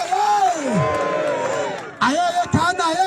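A crowd in Harding cheers, whoops and claps for Ghana in loud, wavering bursts with strong voiced shouts, rising again after a short dip near the end.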